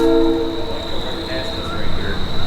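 A train rumbles past close by with its horn blaring at first, then a loud steady roar of wheels and cars continues under a high sustained tone.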